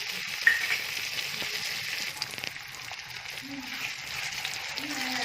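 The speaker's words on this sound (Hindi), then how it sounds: "नमक, मिर्च, मसाला डाल के इसको चंद सेकंड के लिए भूनेंगे ताकि कच्चापन ख़त्म हो जाए मसाले का" Salt, chili and turmeric fry with softened onions in a hot pan, giving a steady, fairly quiet sizzle with a few small pops and faint stirring sounds.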